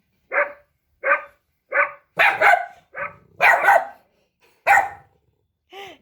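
A dog barks repeatedly and close by, starting with evenly spaced single woofs and breaking into quicker doubled barks, ending with a higher yelp.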